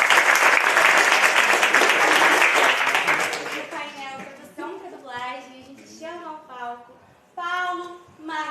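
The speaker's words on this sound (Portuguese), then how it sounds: "uma salva de palmas pra eles" Audience at a Dublacon 2022 dubbing panel bursts into loud, dense applause for about three seconds, then it fades as a voice begins speaking over a quieter crowd.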